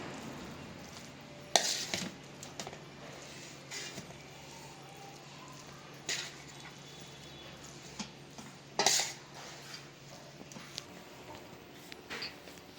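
A metal ladle stirs cooked rice into tamarind sauce for pulihora, giving soft scraping and occasional sharp clinks against the pot, quiet and close, with a few louder knocks spread through the mix.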